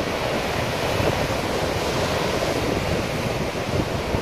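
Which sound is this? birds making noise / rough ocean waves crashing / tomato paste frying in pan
rough ocean waves crashing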